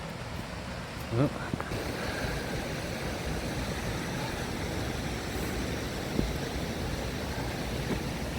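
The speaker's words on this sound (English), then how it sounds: "So yeah, another waterfall here. These falls behind me, I believe, are Rosies Falls." Rosies Falls on the Talnotry Trail pours with a steady, broad rushing roar of water, constant throughout, with a short vocal sound near the start.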